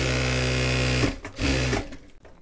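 A sewing machine stitches the yoke piece of a salwar, running in a fast steady whir up close, briefly pausing and restarting before slowing toward the end.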